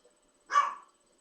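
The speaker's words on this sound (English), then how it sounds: "There goes my dog barking." A single short bark from Lola, a pet dog somewhere in the house, sharp and moderately loud against an otherwise quiet room, rising and fading within about a third of a second.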